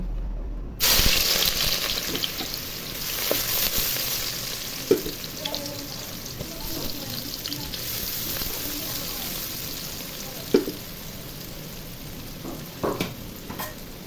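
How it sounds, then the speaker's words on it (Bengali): Onions dropped into hot oil in a pan for khichuri, an abrupt start followed by a dense steady sizzle and crackle with occasional stirring clatter, close and loud throughout. "তেল গরম হয়ে গেছে এখন পেঁয়াজ ছেড়ে দিব"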